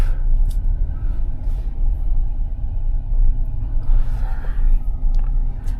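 A 2018 Cadillac Escalade drives along on a test drive, with a loud, steady low engine and road rumble heard from inside the cabin and a few faint clicks over it.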